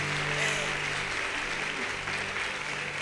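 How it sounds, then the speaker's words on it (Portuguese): Audience at a church service applauds steadily and fairly loudly throughout, a dense continuous patter of clapping with no voices on top. "uma salva de palmas para ela"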